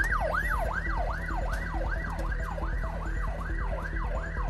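Wailing ambulance siren arriving at a house, rising and falling steadily about every half second, loud and close, continuous throughout with a low engine rumble beneath and no talking.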